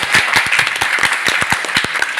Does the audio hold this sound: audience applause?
yes